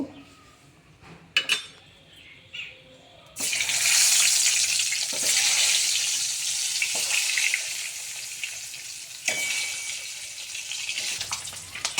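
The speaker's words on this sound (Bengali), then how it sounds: "আমার ডিমটা সুন্দর করে লাল লাল করে ভাজা হয়ে গিয়েছে" Eggs frying in hot oil seasoned with salt and turmeric for a Bengali egg curry; after a few quiet clicks, a loud, steady sizzle bursts in and continues close by, with occasional pops.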